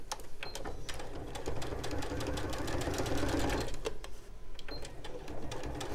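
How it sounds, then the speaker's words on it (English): A sewing machine stitches across the raw edge of fabric for a dress pocket, running continuously and close with a rapid, even mechanical whir and needle clatter. "So we're going to rest this on top now and just sew across that raw edge."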